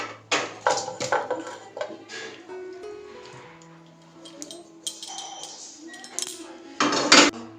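Broccoli curry is scooped out of a kadai with metal utensils, giving close, uneven clinks and scrapes of spoon on metal with quieter pauses between the louder strikes.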